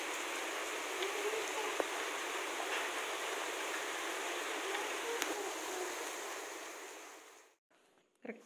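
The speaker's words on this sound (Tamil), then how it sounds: "அன்றைக்கி கரெக்டாக வேலையும் முடிக்கிறாங்க, மழையும் ஸ்டார்ட் ஆகிடுச்சுங்க." Steady rain falls outdoors on a farm, making an even, dense hiss that continues for most of the stretch, then cuts off abruptly near the end, leaving a few faint sounds.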